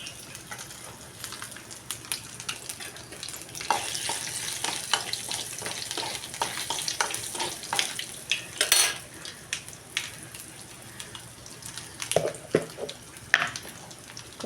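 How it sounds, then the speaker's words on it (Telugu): Tempering of cumin, curry leaves and dried red chillies sizzles and crackles steadily in a hot pan of oil, with occasional stirring clinks of a utensil against the pan. "తాలింపులు అయితే వేగిపోయినాయి"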